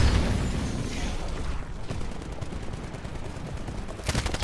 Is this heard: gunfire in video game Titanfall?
yes